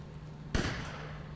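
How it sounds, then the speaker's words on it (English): A single sharp gunshot-like bang from Resident Evil Village rings out, followed by a short fading tail over a low steady hum. "Gunshots?"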